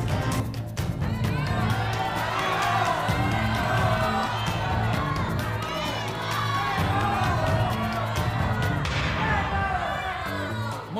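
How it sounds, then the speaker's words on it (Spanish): A studio audience at a game show cheers, claps and shouts continuously, a loud sustained crowd roar with whoops and children's voices that stays dense throughout and swells again near the end. "¡Aplauso!"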